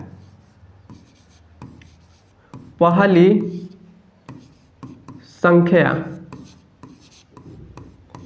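Chalk or pen writing out a Class 10 maths problem, short scratchy strokes and taps coming in bursts, with a voice talking at moderate volume between and over them.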